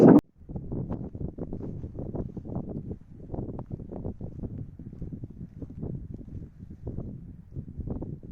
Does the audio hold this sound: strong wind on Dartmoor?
yes